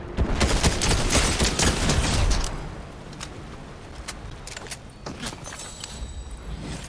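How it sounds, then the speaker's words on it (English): A dense volley of gunfire from the video game Fortnite rattles loudly for about two seconds. Scattered single shots and impacts follow at a lower level. "He's shooting at me."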